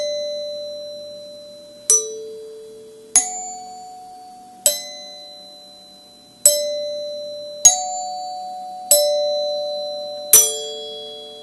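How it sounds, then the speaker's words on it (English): A vintage NuTone L72N eight-note recessed bar door chime plays a Westminster-style tune, with seven clear struck tones ringing out one after another at a measured pace, each decaying slowly in a quiet room. "it simulates the sound of a Westminster chime"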